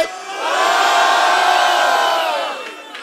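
Rap battle crowd at Batalha do Tanque in Rio de Janeiro roaring and shouting for an MC, a loud sustained wall of voices that swells, holds, then fades near the end.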